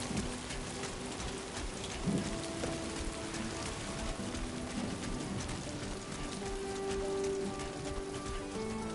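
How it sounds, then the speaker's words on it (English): Steady rain from a video game's holographic weather effect, a continuous hiss of drops on surfaces at an even level throughout, with faint tonal game sounds underneath and no talking. "I think that was just all holographic rain"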